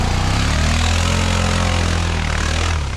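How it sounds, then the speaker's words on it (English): A dirt bike engine runs loud and close for about three seconds, a steady throaty drone with slight shifts in pitch as the throttle is worked on a steep outdoor slope. "You gotta give it some throttle."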